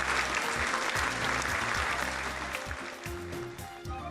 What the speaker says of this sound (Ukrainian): підходить тож плескаємо в долоні